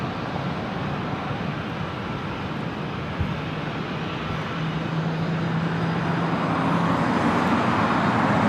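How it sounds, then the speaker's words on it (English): A Delta Airbus A321neo airliner approaches runway 24 right at LAX, a broad steady jet rumble that grows slightly louder as it nears, with a faint tonal hum joining midway. "Another Delta A321 Neo heading over here to 24 right."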